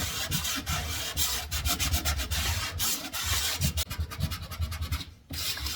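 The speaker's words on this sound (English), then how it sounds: "I'm going to do all the hand sanding around the edges and get that old finish off" Sandpaper rubs back and forth by hand along old wooden edges, stripping the previous finish in quick rhythmic scratchy strokes, close and continuous with a brief pause near the end.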